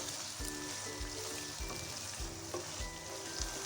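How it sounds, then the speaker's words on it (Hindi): Chopped capsicum frying briefly in a pan, a close, steady sizzle with faint stirring scrapes at regular intervals, moderately quiet, with no voices. "कुछ सेकंड फ्राई करेंगे, बस ज़्यादा फ्राई नहीं करना, वरना शिमला मिर्च का कलर चेंज हो जाएगा"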